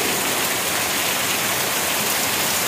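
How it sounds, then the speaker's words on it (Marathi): Heavy rain pours down in a steady, dense hiss that stays loud and unbroken throughout, with no voices over it. "पाऊस केवढ्या मोठ्याने चालू झालाय बघा"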